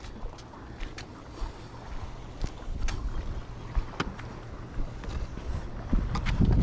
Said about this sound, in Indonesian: Angin bukan main kuat ni.